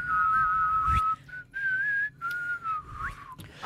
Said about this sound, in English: How are you guys at whistling?